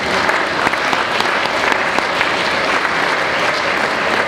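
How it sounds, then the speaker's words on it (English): Banquet guests at an academic society dinner in Rotterdam applaud in a dense, even round of clapping that holds steady throughout, with little talk beneath. "please give her an applause as well"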